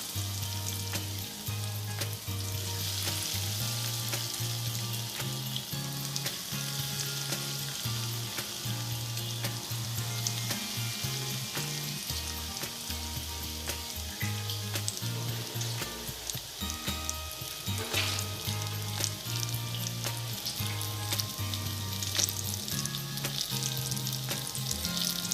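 Bread rolls frying in hot oil give a steady, dense sizzle and crackle throughout, close and continuous, with a low repeating hum or tonal pattern underneath.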